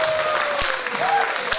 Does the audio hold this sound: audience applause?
yes